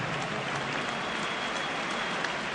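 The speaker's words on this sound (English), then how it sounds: "Let's have a nice warm round of applause" A rugby match crowd applauds in a stadium, a dense, even wash of clapping that sounds distant and hissy, steady for a couple of seconds with no break.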